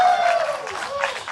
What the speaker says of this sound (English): please give a cheer for me to go wild for the peninsula